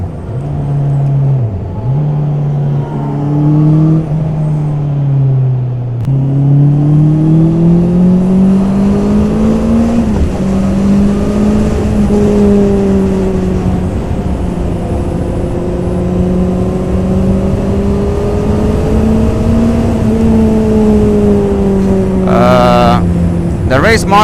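A 2021 Honda CB650R motorcycle riding on a race track, its engine droning loudly and continuously with rising and falling revs throughout, close to the rider, with a brief burst of wind or clatter near the end.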